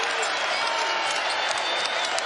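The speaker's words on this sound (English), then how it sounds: "Crowd's on its feet right now." A basketball arena crowd at a Arizona vs TCU men's game roars and applauds in a dense, continuous wash of cheering and clapping, loud and sustained throughout, with a commentator talking over it.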